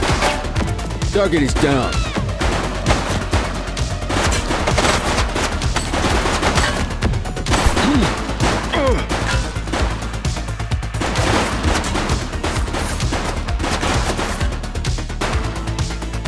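Dense, loud gunfire in The Precinct police video game, as a suspect shoots during a firefight, with continuous overlapping shots and bursts mixed with clattering impacts and a voice speaking over the shooting.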